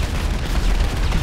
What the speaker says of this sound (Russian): Какие-то взрывы, супер.